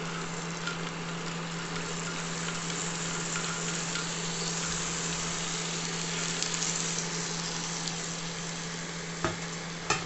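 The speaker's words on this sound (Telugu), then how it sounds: "ఉల్లిపాయలు వేగినాక ఉడికించిన పెసర్లో ప్యాన్లో వేసేయాలి" Onions and boiled moong dal fry together in a pan as a steady, close sizzle, broken now and then by light stirring scrapes, with a constant low hum running underneath.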